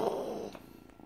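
A rescued kitten purrs with a soft, close rumbling that is strongest at first, then thins into fainter, fluttering purrs toward the end.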